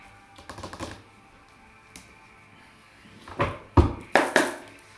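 Tarot cards are shuffled by hand in a few crisp, fluttering riffles, scattered at first and then louder clustered bursts near the end, close and without talking.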